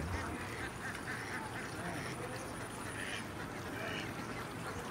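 A flock of ducks quacks constantly outdoors in a village field, many overlapping calls at a steady level with no pauses.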